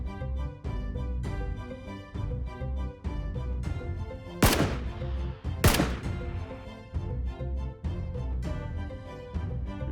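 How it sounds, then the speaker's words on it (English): Two sharp, loud gunshots from the game PUBG, about a second apart, bursting out over a dense, steady music bed. "Two shots."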